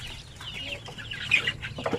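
Chicks and hens cluck and peep in short, scattered calls close by in a brooder pen over a low background hum, with no talking.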